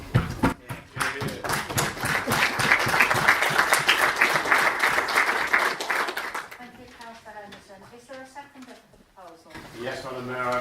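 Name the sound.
applause at council meeting after budget speech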